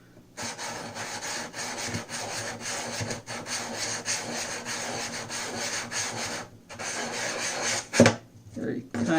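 Continuous gritty scraping of an Edge Pro Matrix diamond stone being dressed, a steady rasping cut that runs for several seconds, pauses briefly, then resumes with a few sharper knocks near the end.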